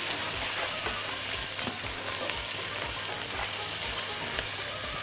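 Onions frying in a pan for caramelized onion kofta, a steady loud sizzle broken by regular soft scrapes of stirring, with no voices.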